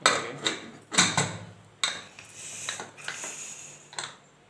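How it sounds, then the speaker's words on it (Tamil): A home cook closes the lid of a pressure cooker, giving several sharp metallic clanks and scrapes in an irregular sequence, close and fairly loud, with no talk over them. "குக்கரை மூடிடும்"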